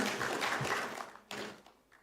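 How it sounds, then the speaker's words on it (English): Audience at a tech show in Mysuru applauding a speaker's introduction, a faint, dense wash of clapping that fades toward the end, with a brief renewed burst before trailing off. "Please give a big round of applause to Mr. M.N. Pai."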